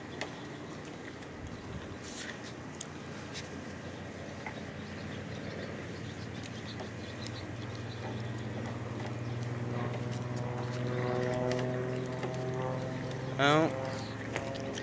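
Steady clip-clop of horse hooves plods along under a constant rumbling background, with a tonal whine rising near the end.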